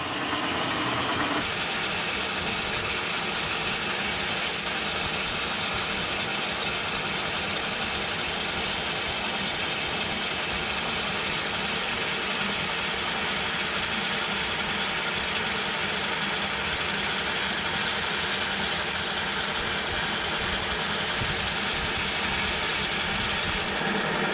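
A K&T milling machine runs for the first time, pumping oil with its spindle set to the lowest speed, giving a loud, steady mechanical drone and hum that continues unchanged throughout.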